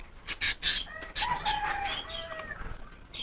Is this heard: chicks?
yes